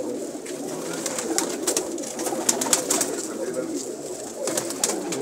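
Sialkoti pigeons cooing among other birds, a dense close chorus of throaty coos with sharp flutters and clicks scattered throughout, a faint voice occasionally beneath.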